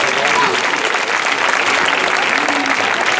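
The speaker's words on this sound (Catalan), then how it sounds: "Un fort aplaudiment, un altre pit per ells." An audience at a school variety show claps in a dense, sustained round of applause after a comedy monologue, steady and loud throughout.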